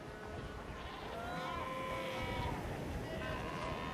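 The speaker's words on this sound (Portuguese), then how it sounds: "As focas são criaturas extremamente barulhentas." Seals call on the Namibian coast in a wide chorus of overlapping bleating, wavering cries, moderately distant above a constant rushing wash of surf.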